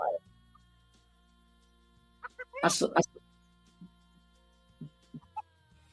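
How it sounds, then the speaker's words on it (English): Chickens cluck in the background, a short burst of squawky calls followed by a few scattered softer clucks, faint and a little distant, set against quiet room tone with some talking. "I hear some chickens."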